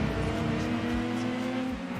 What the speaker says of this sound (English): Way, Aston Martin DB7.